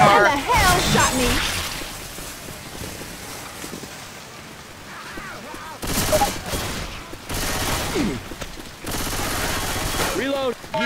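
Gunfire in the video game Left 4 Dead breaks out in several dense, loud volleys across the second half, with voices talking over the earlier part.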